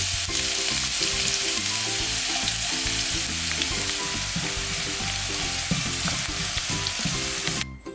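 Sliced onions fry in oil for beef 65, a loud, dense sizzle running steadily throughout with a faint rhythmic stirring or clatter beneath, cutting off abruptly at the end.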